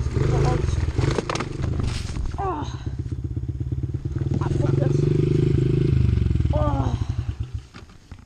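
A dirt bike rides through a rocky trail section, its engine droning and revving steadily up close while the machine clatters and thumps over rocks. A rider talks over the engine noise.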